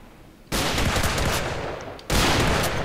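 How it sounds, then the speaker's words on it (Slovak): Rapid automatic gunfire in a Minecraft game, a dense, continuous burst that starts abruptly, pauses briefly for a moment, then resumes, loud and close with no speech. "Sniper po nej strieľa"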